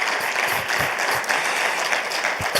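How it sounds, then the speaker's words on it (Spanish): Dense, continuous applause from a large crowd at a religious gathering, loud and steady throughout with no pauses. "Dale un fuerte aplauso a Jesús."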